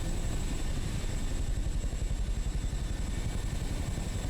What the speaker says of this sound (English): Little CH-47 using all of its available horsepower to get us to the summit